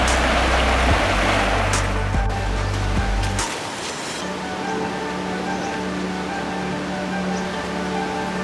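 Steady rushing water rises from a stream as a waterfall nears in the Perth bush, a broad hiss that stays constant throughout while low rumble underneath drops away partway through.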